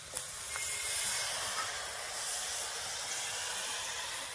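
Bottle gourd greens dropped into a hot wok over a lit stove, giving a steady, soft sizzling hiss that holds for several seconds without speech.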